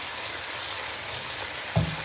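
Masala fish fries in a pan with a soft, steady sizzle, then a brief clatter of stirring near the end.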